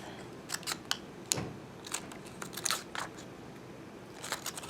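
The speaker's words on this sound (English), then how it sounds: "We're going to do our snips about the same width," Scissors snip tabs into paper for a 3D paper sculpture, a series of crisp, close cuts in irregular clusters with short pauses between them.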